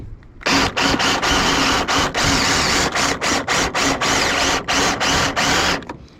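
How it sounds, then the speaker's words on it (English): A power drill bores out the rivet on a chainsaw bar tip, running in loud, gritty bursts with many short stops and restarts, close up. "I'm just making sure I drill out the rivet properly"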